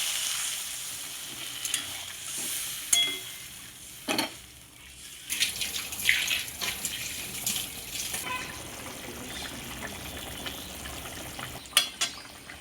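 Water added to a pan of fried potato, pointed gourd and spices for a mowa fish curry, with a sizzling, bubbling wash, clinks of a utensil and stirring scrapes, steady and close throughout.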